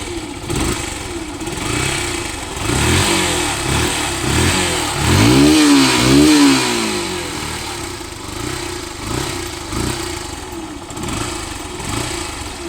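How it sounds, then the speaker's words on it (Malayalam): Motorcycle with a Yamaha FZ engine runs steadily for the whole stretch, its close, smooth idle lifting into two quick revs midway before settling back to an even idle. "എഫ് സിയുടെ സെയിം എഞ്ചിൻ തന്നെയാണ് ഈ വാഹനത്തിൽ ഉപയോഗിച്ചത് അപ്പോൾ വണ്ടി ഒന്നും സ്റ്റാർട്ടാക്കി"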